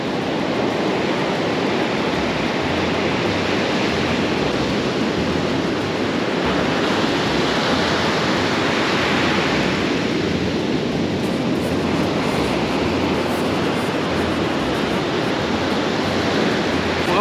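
Sea waves at Praia dos Castelhanos beach, a continuous loud roar of surf with gently swelling surges, broad and steady, with no voices.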